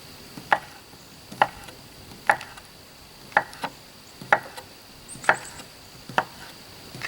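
A knife chops potatoes into small pieces on a board for a one-pot meal, landing eight crisp, evenly spaced strikes at a slow steady rhythm, close and clear with no talk.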